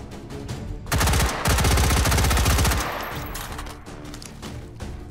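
An M16A3 rifle in the VR shooter H3VR fires loud, rapid automatic bursts, roughly two long strings of close shots, followed by a ringing tail and quieter mechanical clicks.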